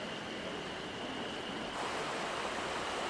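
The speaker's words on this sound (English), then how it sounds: "Their starting point is shallow with a rapid current." Rapid current rushes through a shallow stretch of the upper Sorachi river in Hokkaido, a constant dense wash of water close by with no talking.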